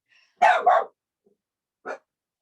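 A pet dog barks close by indoors: two sharp barks in quick succession, a pause, then one more bark, with silence between them.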